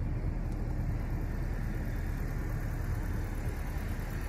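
A 2022 Honda Civic Sport Touring Hatch with dual exhaust idles in a steady, low, even hum, close and unchanging, with no talk.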